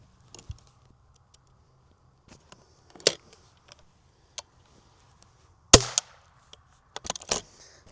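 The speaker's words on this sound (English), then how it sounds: "just shoot a primer through the barrel" A muzzleloader primer fires through the barrel of a Thompson/Center Encore, giving a single sharp crack near 5.7 s among a few smaller clicks and handling knocks in an otherwise quiet outdoor setting.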